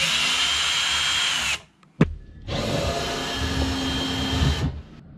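A power driver with a T30 Torx bit runs out factory bolts from a Honda Ridgeline truck bed, two loud close whirring bursts split by a short pause and a sharp click.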